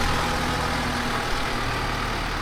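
A farm tractor engine runs steadily near a corn harvest, a loud continuous diesel drone with no voices.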